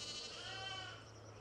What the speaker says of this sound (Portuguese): As ovelhas estão na propriedade